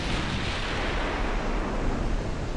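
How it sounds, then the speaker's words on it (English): In a naval warfare video game, a torpedo detonates against a battleship, producing a loud, sustained, rumbling blast that fills the whole moment with deep roaring noise and no talk. "Good hits, torpedo detonation."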